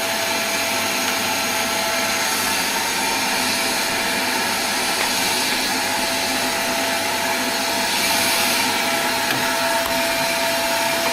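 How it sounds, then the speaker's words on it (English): A vacuum cleaner that may be getting full and losing suction runs steadily at close range during farm shelf-building, a loud constant whine with a hissy airflow roar and no talking. "I think our vacuum cleaner might be getting full here."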